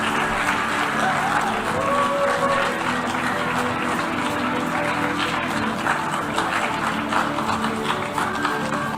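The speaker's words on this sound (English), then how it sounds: "are they clapping because they agree with them, or are they clapping because they disagree with them" Parliamentary audience applauding, a dense, steady wash of clapping that fills the whole stretch at a constant level, with no clear voices above it.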